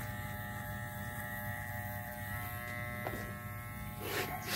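A Walmart electric hair clipper buzzes steadily throughout a taper fade haircut, a close, continuous motor hum with a slight rise in noise near the end and no talk.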